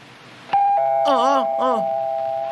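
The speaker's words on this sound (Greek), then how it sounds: "Να το και πάλι το κουδούνι." Doorbell in a Felix the Cat cartoon rings with a sharp onset and a sustained electric tone, while a voice talks over it in short bursts.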